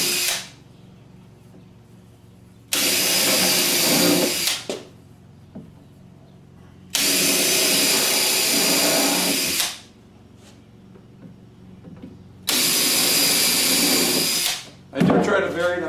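A power drill drives screws into a corner sink base cabinet support in three long, loud whirring bursts separated by quieter pauses, close up, with a short fourth burst at the end.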